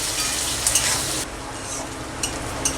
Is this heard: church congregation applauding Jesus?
no